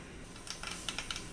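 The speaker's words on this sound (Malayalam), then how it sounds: "കടുകൊന്ന് പൊട്ടി വരട്ടെ" Mustard seeds with a little fenugreek pop in hot oil for a tuna fish curry, with faint, sparse, irregular crackling clicks scattered over a quiet hiss.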